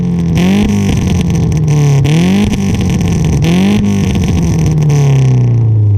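A stock four-cylinder car engine with a true dual exhaust and H-pipe revs hard three times in quick succession, each loud, close blip rising and falling before the idle settles.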